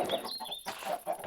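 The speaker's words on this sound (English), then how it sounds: "the chicken farm is now up and running and producing chicken" Chickens in a Minecraft Java Edition chicken farm cluck in quick, close, overlapping calls over a short stretch, busy and fairly loud with no talking.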